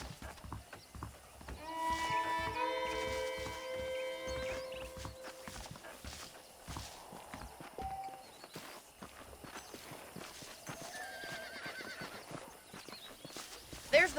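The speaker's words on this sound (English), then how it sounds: "The horses are saddled up over here." Horses in the video game Red Dead Redemption clop along with hoof steps and let out a whinny early on, faint and mixed under game music and speech.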